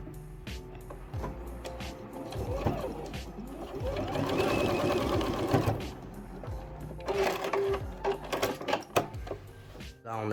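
A sewing machine stitches a cushion cover in steady whirring bursts that start, stop and speed up, with fabric shuffling between runs, close and fairly loud.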